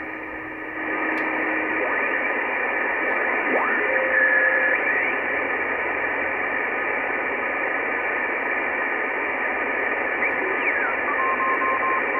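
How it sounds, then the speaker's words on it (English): Beacon from the XW-2D amateur radio satellite received on the 2-meter band: a steady wash of static hiss with faint, thin carrier tones drifting in and out throughout, no voices. "We hear the beacon. Beacon is still, receivable"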